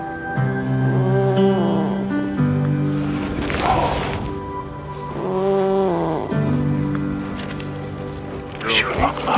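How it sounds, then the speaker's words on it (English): A polar bear cub in Hudson Bay snores softly while being held, in slow, rhythmic breaths beneath a person's close narrating voice. "As I'm holding her, she starts to snore."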